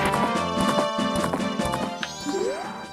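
Epona, the horse in Zelda Majora's Mask, walks with steady clip-clop hoofbeats that sit close and clear over busy game music and effects, with a rising tonal sweep near the end.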